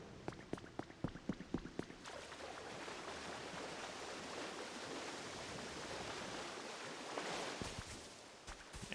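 A waterfall in the Pokopia video game gives a steady, soft rushing wash of water, preceded by a few quick clicky taps in the first two seconds.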